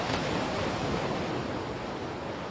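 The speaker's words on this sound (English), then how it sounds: "salt spray rises, rainbow mist, above the constant breaking of the waves." Ocean waves break continuously along the California coast, a dense, steady roar of surf that stays loud and close throughout with no pauses and no voices.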